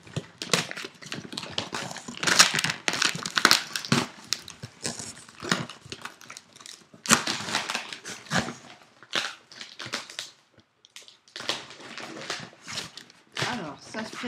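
Paper crinkling and rustling in bursts while a box holding a bag is unpacked, close and fairly loud, with tape handled and someone talking throughout.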